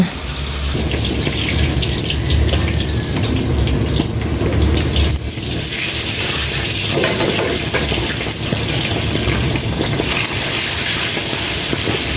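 Tap water gushes steadily into a farm sink during washing, a loud continuous close rush with faint clinks and splashes from the items being scrubbed, and no talk.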